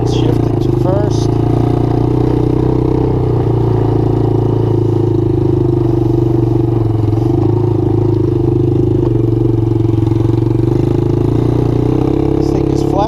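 A Suzuki LT80 ATV fitted with a 125cc Kymco engine runs loud and close, its small single-cylinder drone steady and rough with rattling, as it is downshifted into first gear; a person talks over the engine noise.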